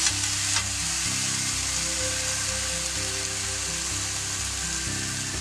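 Kerala-style egg roast masala sizzles and fries steadily in a pan while being stirred, a loud, continuous crackling hiss close by with no talk, and background music can be heard underneath.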